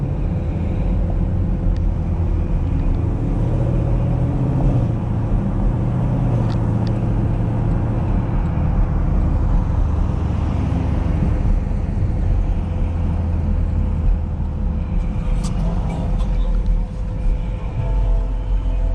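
A 2021 Chevrolet Camaro SS fitted with Texas Speed headers and link pipes drones with a steady, raspy exhaust note, a continuous loud low rumble heard from inside the car with road noise underneath.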